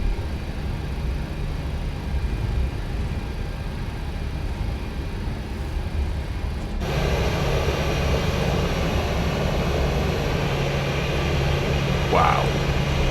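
Airliner jet engines in a flight simulator 737-800 roar steadily, then step up sharply in power partway through as takeoff thrust builds, a loud sustained rumble with a brief chirp near the end.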